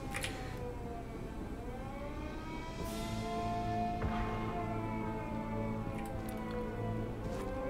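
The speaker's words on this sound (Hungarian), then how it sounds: "ez a sziréna" A wailing alarm siren in the video game Sniper Elite 5 rises and falls in long tones, sounding fairly distant and faint behind low in-game ambience.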